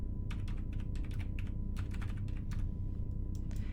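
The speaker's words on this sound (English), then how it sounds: "And we will type here the date." Steady typing on a computer keyboard while entering a date into an Excel spreadsheet, a quick run of close, crisp key clicks with uneven rhythm over a faint constant hum, and no voices.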